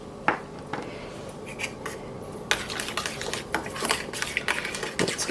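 Garlic and Cajun spice being stirred together in a bowl, with irregular scraping and clinking of a utensil against the bowl, sharper taps scattered throughout at close range.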